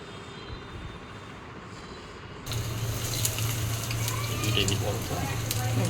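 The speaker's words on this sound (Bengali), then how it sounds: "ভাজা শুরু হয়ে গেছে" Homemade kebab starts frying in a pan, a steady, close sizzle that kicks in abruptly partway through and keeps crackling after a quieter stretch of room noise.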